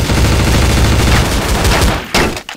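Dense, continuous automatic gunfire from a video game firefight, loud and close, rattling without pause for about two seconds before cutting off, followed by a single sharp report.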